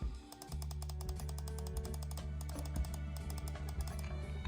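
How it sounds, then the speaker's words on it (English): A Hyperkin Retron 5 Hyper Beach Edition controller has its joystick and buttons worked in a rapid run of light, crisp plastic clicks, close and steady over a low hum. "Has a clicky little joystick, and buttons are a little they are a little clicky."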